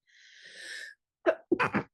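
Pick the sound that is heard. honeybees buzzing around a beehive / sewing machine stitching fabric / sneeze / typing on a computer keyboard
sneeze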